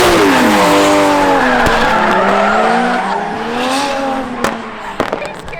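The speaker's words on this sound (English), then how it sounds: "It's such a different experience drifting a car like that." A drifting car's tires squeal loudly and continuously, the pitch sliding up and down as the car slides, with engine noise beneath and a few sharp pops near the end.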